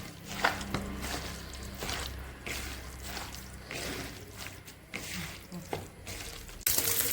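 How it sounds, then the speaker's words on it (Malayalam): Spice-marinated prawns frying in a pan for prawn biryani, giving a steady close sizzle with occasional knocks of a utensil against the pan. "നമ്മൾ ചെമ്മീൻ ഇവിടെ ഫ്രൈ ചെയ്യാൻ വേണ്ടി ഇട്ടിട്ടുണ്ട് കേട്ടോ."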